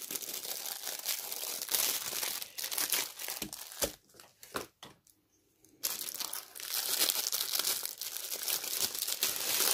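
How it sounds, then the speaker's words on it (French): Zip-lock plastic bags handled up close during an unboxing, giving loud continuous crinkling and rustling with a brief quieter pause midway before the crackling resumes. "vous avez un sachet zippé et vous en avez un second"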